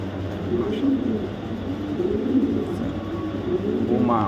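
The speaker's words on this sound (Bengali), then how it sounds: "একটা ব্লুবার রেসার মাদি কবুতর" A blue bar racer female pigeon, a young bird, coos in low repeated murmurs close by, over a steady background hum and faint voices.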